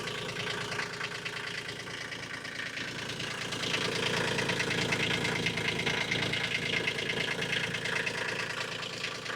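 A Kioti K9 diesel UTV with a CVT transmission runs close by at a steady clattering idle, rough and knocking, growing slightly louder partway through, with no talk.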